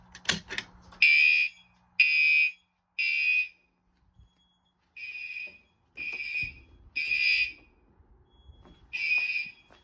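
A Wheelock MT fire alarm horn sounds during a system test, giving a run of loud, evenly spaced buzzing pulses with short silent gaps between them, alone and fairly close.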